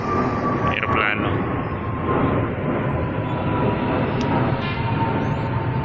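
An airplane at Riyadh airport produces a loud, continuous broadband engine roar heard nearby that fills the whole stretch without a break, with a faint steady tone running underneath.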